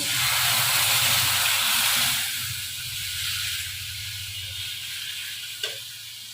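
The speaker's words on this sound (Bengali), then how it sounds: "মশলাটাকে কষিয়ে নিই ভালো করে" Spice paste frying in oil in a pan, a steady loud sizzle and hiss that fades to a softer crackle partway through, close up, with a brief clink near the end and no talking.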